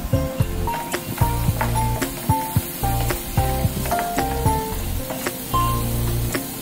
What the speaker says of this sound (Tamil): போட்டு எல்லாத்தையும் சுருள வதக்கணும்